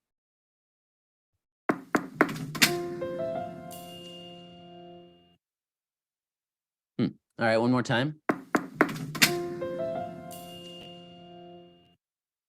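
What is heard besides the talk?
Wikimedia sound logo candidate, knocking on a door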